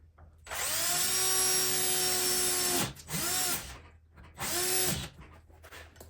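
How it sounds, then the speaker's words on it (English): A power drill drives 2-inch finish screws into wood, one long whining run and then two shorter bursts with brief pauses between, close and loud with no talk. "Use these finish type 2-inch screws and screw them together."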